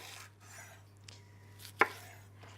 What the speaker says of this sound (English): I'm just going to cut the bulb into quarters.